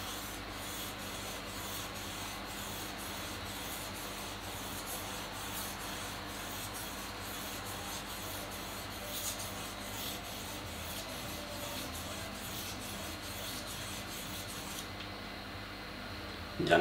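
Steady rubbing strokes of an Albacete folding knife blade being sharpened along its curved edge, a continuous close gritty scraping that holds evenly throughout with no voices.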